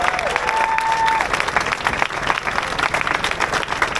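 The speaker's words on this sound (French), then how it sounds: "vous pouvez aussi vous applaudir pour être présent aujourd'hui" Crowd applauding at the start of the Pantin 2025 pride run outdoors, a dense, lively burst of clapping from many people with scattered cheers, loud and continuous throughout.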